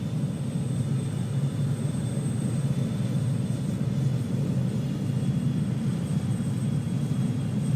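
Steady broadband jet engine roar inside a BAE-146 airliner with flaps full on landing approach in Microsoft Flight Simulator 2020, constant and continuous with no talk.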